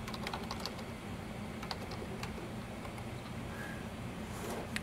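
Rapid, uneven typing on a computer keyboard at a desk, a steady patter of soft key clicks with a few sharper taps, close and fairly quiet over faint room noise.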